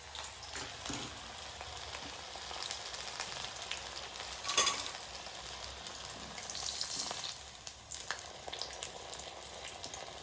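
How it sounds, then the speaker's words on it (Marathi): Close, continuous bubbling sizzle of moong dal fritters deep frying in oil, with occasional louder crackles and spits. "छान असं तळला जातोय"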